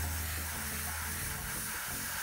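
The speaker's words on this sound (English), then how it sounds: "Always test before you spray." Short, close hiss of an airbrush spraying thinned Mission Models paint onto a 1/56 scale M4 Sherman model, a steady airy spray without pause.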